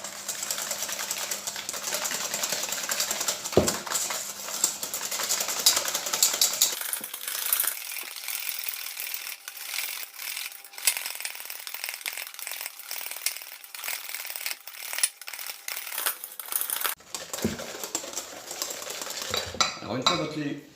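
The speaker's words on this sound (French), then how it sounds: "Maintenant, on va blanchir les œufs avec le sucre." Egg yolks whisked with sugar in a bowl for île flottante, a fast rhythmic metallic scraping and clinking of whisk against bowl, close and continuous with brief pauses.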